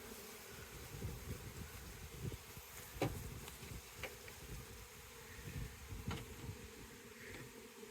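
Honeybee colony humming in an opened hive during an apiary inspection, a steady low drone with individual bees buzzing past the microphone now and then, fairly faint.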